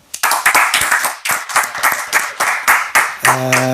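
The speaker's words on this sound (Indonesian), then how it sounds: "Tepuk tangan dulu." An audience at a talk claps together in a brisk, fairly even rhythm, about a dozen sharp, close claps, ending as a sustained tone enters.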